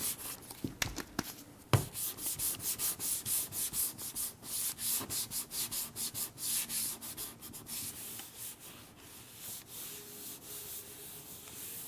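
Sandpaper is worked by hand over guide coat on a dented car body panel in quick, rhythmic back-and-forth rasping strokes, steady and close, preceded by a few sharp taps.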